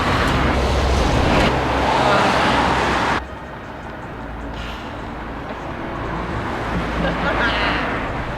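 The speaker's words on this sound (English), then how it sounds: "all sorts of cars coming down" Cars rush past on a road beside a pet cemetery, a loud broadband roar that drops off and then swells again as more vehicles approach.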